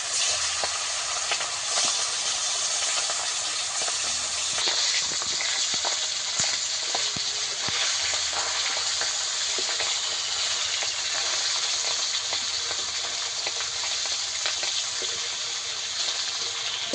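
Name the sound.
hilsa fish frying in oil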